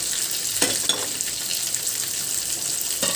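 Chopped onions and ginger sizzle and fry steadily in a hot pan, with a few sharp scraping stirs of a spatula breaking through the continuous crackle.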